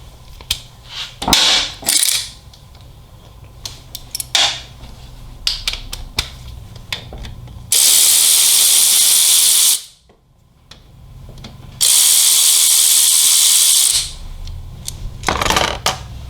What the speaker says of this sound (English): first thing we're going to do is start with removing the chain tensioner. 2 T27 Torx fasteners.